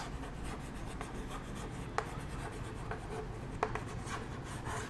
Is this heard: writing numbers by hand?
yes